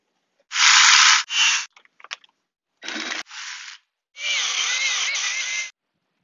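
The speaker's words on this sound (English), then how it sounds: "Now it's just a matter of drilling two holes and cutting slits between them with the jigsaw." Power drilling and jigsaw cutting into a plastic IBC tote: several loud bursts of motor whine, with short breaks and small clatters between, ending in a longer steady cut with wavering pitch.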